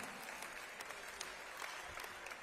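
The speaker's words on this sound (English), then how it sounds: "Ripple of applause from this Gibraltar crowd." A soft ripple of applause from a darts crowd in Gibraltar during a tournament match, faint distant clapping spread evenly across a couple of seconds with no clear peaks.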